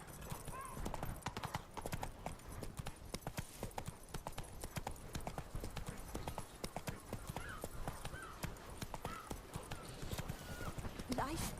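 Roach the horse trots through Beauclair in The Witcher 3: Blood and Wine, her hooves clip-clopping in a steady, close rhythm that runs throughout, with a voice talking over them now and then.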